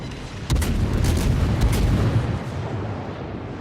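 A heavy naval gun salvo from the cruiser Belfast in World of Warships booms loudly with a rumbling low roar, several sharp cracks in quick succession, then trails off into a fading rolling tail.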